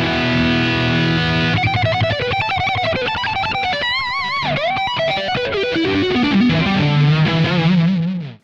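An electric guitar lick played through a Yamaha THR30II amp with a distorted, effects-laden tone: fast alternate-picked and hybrid-picked runs in a busy stream of notes, loud and close, ending abruptly with no talking.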